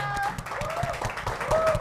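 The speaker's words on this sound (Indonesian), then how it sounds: "langsung saja beri tepuk tangan buat teman saya yang bakal menggocak-gocak perut pemirsa di rumah" Studio audience applauds comedian Pascal at an Indonesian comedy show, a brief steady burst of clapping with a voice and tonal sounds layered over it.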